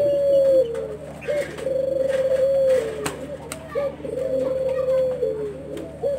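Doves, bred as puter birds, coo in repeated low, hollow phrases, close and clear, over a steady background hum with faint rustling and other bird sounds.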